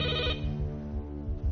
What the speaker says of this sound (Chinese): 龙池桥派出所的报警电话突然响起